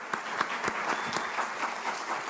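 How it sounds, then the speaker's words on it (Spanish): Short burst of audience applause for panelists at a university lecture series session, with distinct individual claps standing out over a steady clapping wash. "pues un aplauso a los panelistas."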